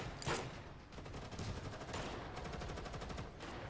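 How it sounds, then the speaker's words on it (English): Rapid gunshots in the video game Girls Frontline 2, a faint burst of quick repeated cracks at the start followed by steady rattling fire under background noise. "Gunshot from my pistol drowned out my pounding heartbeat."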